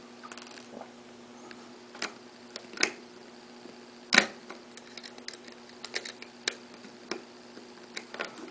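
Small screws are driven into a Sony DSC-T1 digital camera, giving faint, scattered sharp ticks and clicks at irregular intervals in an otherwise quiet room, with one louder click midway.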